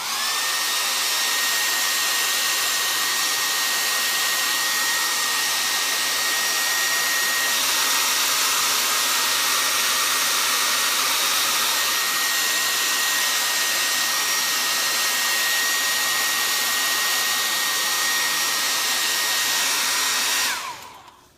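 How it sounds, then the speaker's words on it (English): A hair dryer blows steadily on a chalk paint bronzed patina finish, a loud, close, continuous whooshing whine with a faint high tone that runs for about twenty seconds before switching off, with no talking. "Sometimes there's those finishes that you guys do that we have to blow dry more than others."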